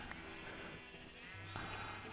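Sheep bleating in Minecraft, a short game bleat rising from steady background ambience, with no talking over it.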